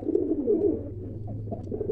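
Pigeons cooing nearby, a soft low throaty coo that rolls on in repeated phrases, fairly quiet and with no talking.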